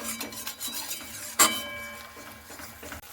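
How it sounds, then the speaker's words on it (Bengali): A spoon stirs spice masala with sour yogurt in a pan for ghugni, with scraping, rubbing strokes and one sharp metallic clink partway through, close and fairly clear. "টক দইটা দিয়ে আমি খুব সুন্দর করে নাড়াচাড়া করে নিচ্ছি"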